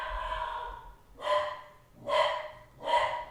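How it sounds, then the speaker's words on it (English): A dog gives three loud, angry barks in evenly spaced bursts, heard during a Pokémon battle commentary with a breathy voice-like sound before the first bark. "And now we hear a dog barking"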